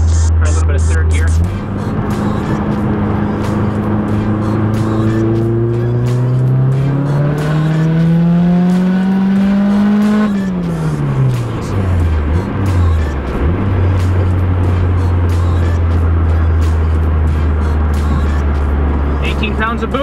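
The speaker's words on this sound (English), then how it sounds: "Let me try another pull here. Try a little bit of third gear." A Mazdaspeed 3 accelerates hard in third gear, its loud engine drone climbing steadily in pitch for about ten seconds, then dropping off and settling into a steady cruise hum, close and continuous.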